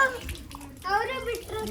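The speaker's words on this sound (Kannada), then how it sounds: "ಇಲ್ಲಿ ನೀರು ಬಿಡ್ಬೇಡಮ್ಮ" Tap water runs steadily into a basin as children wash at home, a close splashing flow under the voices of children and an adult talking.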